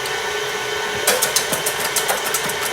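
Egg whites with a quarter teaspoon of cream of tartar whisked until firm: after a second of steady background noise, quick rhythmic whisk strokes set in, close and fairly loud, repeating several times a second.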